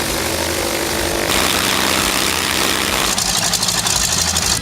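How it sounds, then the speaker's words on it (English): Propeller warplane engine from World of Warplanes roaring loudly and continuously, a steady drone that swells in the upper register partway through, with no voices. "You can experience it with the real roaring of the engine instead of a downloaded library sound."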